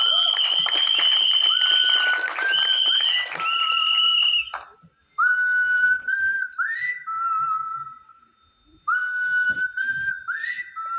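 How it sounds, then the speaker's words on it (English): Audience at the Ruslaan trailer launch in a Juhu, Mumbai PVR cinema, loud shrill whistles and applause from a close crowd, breaking off briefly and then resuming with more sharp whistling. "can we have a big round of applause for her?"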